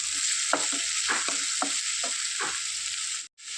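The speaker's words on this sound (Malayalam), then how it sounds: "ഇനി എല്ലാം കൂടെ നന്നായിട്ടൊന്ന് മിക്സ് ചെയ്ത് ഒരു ഒന്ന് വഴന്ന് വരുന്നവരെ ഇതൊന്ന് ഒന്ന് സോഫ്റ്റായി വരുന്നവരെ നമുക്ക് ഇളക്കി ഒഴിപ്പിക്കാം" Vegetables for Kerala-style semiya uppumavu sautéing in a pan, a steady sizzle broken by repeated scraping strokes of a spoon stirring, with a brief drop-out near the end.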